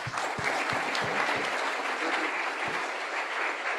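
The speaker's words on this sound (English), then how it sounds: "So I think this is worth a big applause." Steady applause from an audience at a hackathon, honoring the local organizers; dense continuous clapping for about four seconds with a few sharper low thumps near the start.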